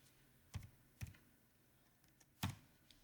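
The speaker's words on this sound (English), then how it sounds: "I keep just typing that number in" A few separate computer keyboard keystrokes tapped out while entering a number, three sharper clicks spaced irregularly with faint softer taps between, close and quiet over a low room hiss.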